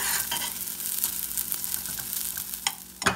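Rice frying in hot oil for arroz verde with poblano chile, stirred until lightly golden: a steady close sizzle with scraping spoon strokes and a couple of sharp clatters at the end.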